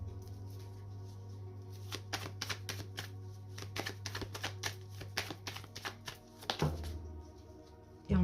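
Tarot cards being handled and laid down during a reading, a quick run of close, light tapping and flicking card sounds over a low steady hum, ending with a louder thump.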